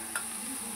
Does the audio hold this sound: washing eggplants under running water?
no